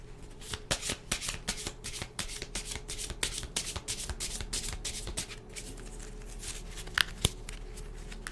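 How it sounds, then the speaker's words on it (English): A deck of tarot cards being shuffled again and again, a dense run of crisp riffling bursts and rhythmic card slaps held close and steady, with a couple of sharper taps near the end. "just shuffling each deck one more time"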